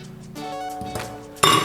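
A lid goes onto a kitchen blender jar with a few light glassy clinks and taps, ending in a sharper, louder clack as it seats, close by and alone.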